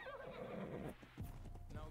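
A horse in ARK Survival Evolved whinnies loudly and close, its neigh rising and falling, with hooves clip-clopping and game ambience underneath and no talking.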